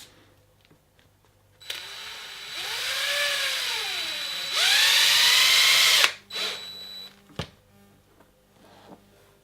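A cordless power drill drives a screw into the tread of a car tyre, whining in two bursts with rising and falling pitch, the second louder and steadier, then stopping with a few clicks afterward.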